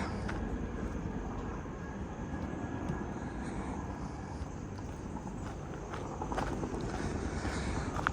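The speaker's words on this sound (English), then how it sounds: "I want to capture the helicopter again." A steady engine drone hums throughout with a broad rumbling wash as a helicopter passes overhead at Great Falls, Virginia; no voices.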